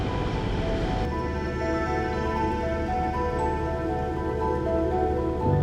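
Steady rain falling on a sailing boat, a dense, even hiss with a constant background drone throughout and no voices.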